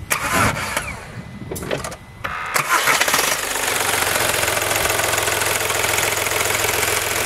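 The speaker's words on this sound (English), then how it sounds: "They idle like that because it's just a three-cylinder, so it's not as smooth" A 2001 Volkswagen Lupo TDI three-cylinder PD diesel engine cranks briefly, then fires up and settles into a steady, slightly uneven idle, loud and close with no talking.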